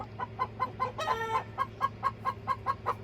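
Rhythmic clucking continues close by while a rooster lets out a honking, goose-like call partway through, then the steady clucks resume.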